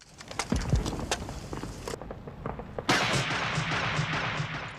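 Gunfire from a Vietnam War movie scene with snipers, with several sharp shots and cracks over a steady noisy outdoor background, partly masked by the dense ambience.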